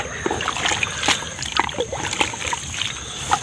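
Water gushes and splashes out as a dug fish pit drains, with irregular sloshing bursts over a constant rushing background.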